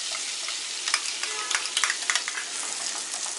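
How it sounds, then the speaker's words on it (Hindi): Masala paste sizzling and frying with ginger and garlic in hot oil over low to medium flame while making drumstick masala curry, a steady close crackle with soft stirring scrapes, no talk. "मसाला पेस्ट हमने बनाई थी, ये डाल देंगे।"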